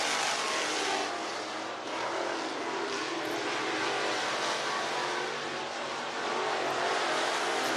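Late model race cars (602 class) qualifying at I-75 Raceway in Niota, Tennessee, on a steady roar of engines that holds near and loud for the whole stretch, with no talk heard.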